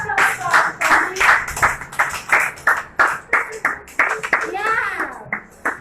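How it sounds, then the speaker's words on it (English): A room of people, including children, claps in a ragged round of applause during a tooth-brushing demonstration, with voices talking over the irregular bursts of clapping throughout. "a round of applause for me."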